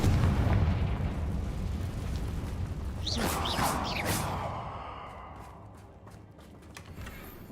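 A Confringo blasting spell detonates in Hogwarts Legacy, a single booming burst with a crackling tail that fades over a few seconds, following a brief rumble.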